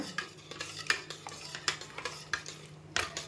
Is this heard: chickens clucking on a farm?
no